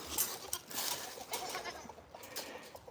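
Goats bleat in a few short, nasal cries over a busy outdoor farmyard background, fairly faint and somewhat distant, with a little light rustling between calls.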